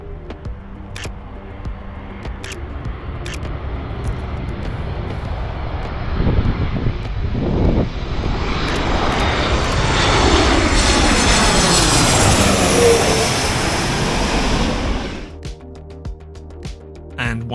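Fast airplanes pass overhead: a loud engine roar swells and sweeps downward in pitch as each one flies by, then cuts off sharply, with no voices over it.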